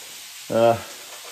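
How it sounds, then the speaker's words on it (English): Sausages fry in a pan with a steady soft sizzle, and a short, louder burst of crackling rises briefly in the middle. "That noise in the background is I'm frying up these various sausages."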